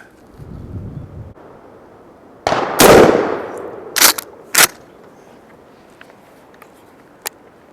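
A shotgun fitted with a TRUGLO 40mm red dot sight fires one loud, sharp shot at turkey targets outdoors, followed by a fading tail, two brief clanks and faint ticks.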